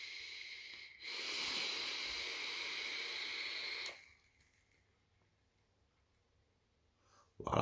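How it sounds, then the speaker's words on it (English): One long, steady airy hiss of a draw on a Vandy Vape Revolver RTA lasts about three seconds, close but soft, then fades to near silence. "So let's have a good little vape."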